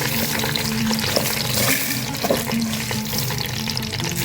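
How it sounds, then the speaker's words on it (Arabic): Rice fries in hot oil and butter in a pot while being stirred, making a continuous crackling sizzle mixed with scraping and clinking from the stirring. "دي الحله زي ما انتم شايفين كده اللي فيها الزيت والزبده، وبنسخنها ونحط الرز ونقلب"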